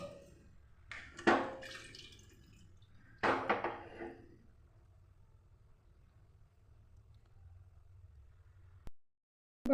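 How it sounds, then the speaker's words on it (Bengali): Water poured into lentils in a pressure cooker for khichdi, a couple of splashy bursts of pouring close by, then a quiet tail with faint background hum. "এবার আমি পরিমাণ মতো জল দিয়ে দিচ্ছি"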